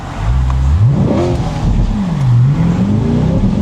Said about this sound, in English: Slow it down here and we'll get a quick launch control.